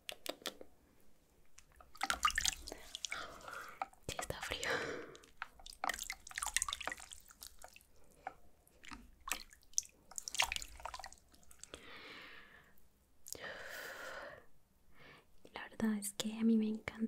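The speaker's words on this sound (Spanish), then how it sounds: "Es que a mí me encanta lavarme la carita con agua fría porque eso me ayuda mucho." Cold water splashes and drips as a face is washed by hand at a basin, soft intermittent splashes separated by quiet gaps, with whispered talk in between.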